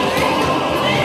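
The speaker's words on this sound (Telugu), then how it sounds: "ఎప్పుడూ విననటువంటి ఈ అరుపులు, కేకలు, కేరింతలు విని" Dense crowd noise of shouting and cheering voices filling Jerusalem streets in a dramatized scene, continuous and loud across the whole moment, with children's cries mixed into the roar.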